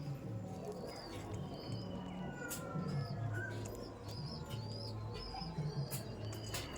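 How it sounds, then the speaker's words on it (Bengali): Benarasi Laldom pigeons in a loft, soft overlapping coos and low burbling with occasional higher chirps, fairly faint and steady throughout. "অবশ্যই দেখুন বেনারসি লালদম পায়রা"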